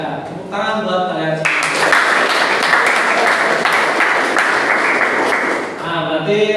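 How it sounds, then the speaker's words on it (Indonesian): Students in a classroom clap their hands together in a loud, dense burst that lasts about four seconds and then fades. A teacher's voice is heard briefly before and after it. "tepuk tangan buat kalian."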